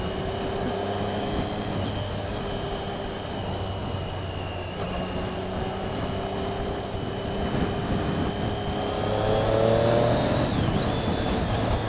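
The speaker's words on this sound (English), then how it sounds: "This is absolute bog standard stock can, and it makes that sort of noise" A Triumph Daytona 675 motorcycle with its stock exhaust can hums steadily on a test ride, its engine note holding and then rising near the end under constant wind and road noise.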